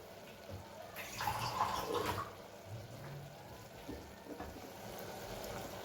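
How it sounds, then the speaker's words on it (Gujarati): Water poured into a pot of cabbage and tomato curry: a brief splashing pour lasting about a second, then quieter bubbling and faint kitchen background. "પાણી ઉમેરી દઈએ."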